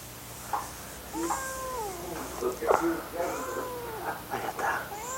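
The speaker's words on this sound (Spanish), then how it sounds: "Se metió un gato a la casa." A cat that has wandered into a house meows repeatedly, drawn-out wavering cries close by, mixed with a person's speech and some rustling.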